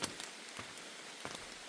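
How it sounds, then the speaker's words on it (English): Rain falls on a hiking trail on the Appalachian Trail in North Carolina: a soft, distant, steady patter with no wind, with a few slightly louder drops now and then. "if you're going to hike in rain, this is the best rain to hike in"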